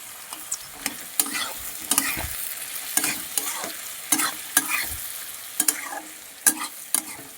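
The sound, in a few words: potatoes frying with turmeric and chilli powder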